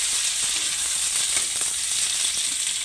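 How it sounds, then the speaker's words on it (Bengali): Onions and potatoes fry together in a pan with a loud, steady, dense sizzle close up, a few faint stirring scrapes showing through and no voices. "একসঙ্গে এবার ভেজে নেব।"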